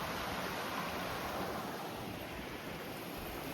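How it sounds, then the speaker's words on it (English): A small creek along the Pacific Crest Trail flows with a steady, even rush of water that holds constant for the whole stretch, with no voices. "it's just a little creek this time"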